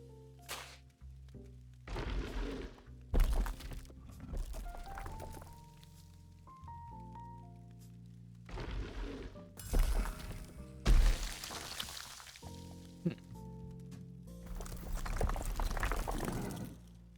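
Goblins in a video game roll toward their target and burst in small snow explosions: a string of sharp thumping bursts with whooshing, sparkly tails over a layered game soundtrack, repeating irregularly throughout.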